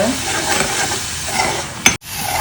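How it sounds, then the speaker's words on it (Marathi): Green masala paste sizzles and fries steadily in hot oil for a Bombay duck curry, a close continuous hiss with a brief stirring scrape near the end before it cuts off. "आणि हिरवं वाटण घालते चांगलं परतून घ्यायचं आहे तेल सुटेपर्यंत"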